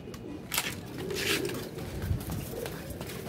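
Teddy pigeon pair cooing, low soft coos repeating over a few seconds amid some rustling and background noise, fairly close and moderately quiet.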